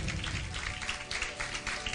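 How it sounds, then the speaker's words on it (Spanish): A church congregation applauding, a thick, continuous wash of many hands clapping together at a steady level for a couple of seconds, filling the room. "Y si tenés un aplauso se lo damos"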